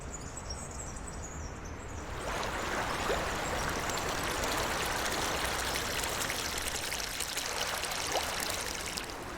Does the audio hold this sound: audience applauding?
no